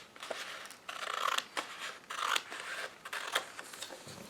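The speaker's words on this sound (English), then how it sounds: "You can line your scissors right up before you squeeze" Scissors make several crisp snipping cuts through paper in a steady rhythm, close and fairly quiet.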